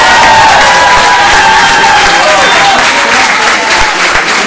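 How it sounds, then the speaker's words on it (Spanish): Audience at an anniversary ceremony for El Colef applauding and cheering loudly, dense continuous clapping with shouts and whoops from a large, close crowd, with voices mixed in. "Doble aplauso."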